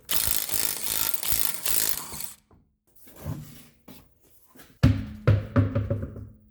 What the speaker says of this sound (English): grab yourself a 19mm socket and fire off the wheel.